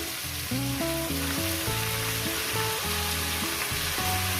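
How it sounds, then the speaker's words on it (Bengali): Large chicken pieces for a chicken curry sizzle steadily in a pan over high gas, a continuous close frying hiss running the whole way with a tune playing underneath. "মাংসটাকে আমি এইভাবে ভেজে নিচ্ছি"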